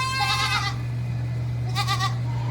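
Goats on a farm giving two loud, near, wavering bleats separated by a pause, over a steady low hum, with no talking.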